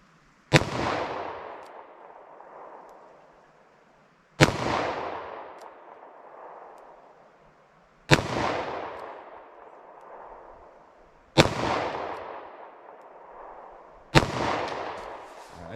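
Five loud gunshots from a .32 H&R Magnum revolver firing Hornady Critical Defense rounds, spaced roughly three to four seconds apart, each a sharp crack followed by a long decaying echo.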